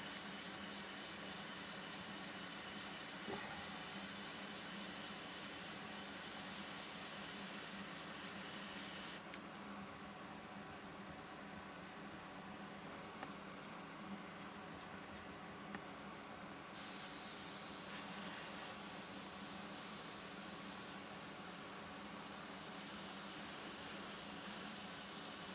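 A Gaahleri Mobius 0.2mm airbrush spraying brown paint in small swirls, a steady close hiss of air that cuts out partway through for several seconds, then resumes and continues to the end.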